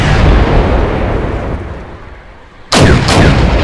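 Artillery fire in a video game: a loud roaring blast fades away, then a sharp new cannon shot cracks in with fast echoing reports, close and heavy, with no talk.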